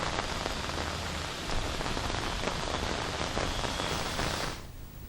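Heavy rain pours down in Hyderabad, a dense, steady roar of downpour hitting surfaces that fills the scene without a break and drops off sharply near the end.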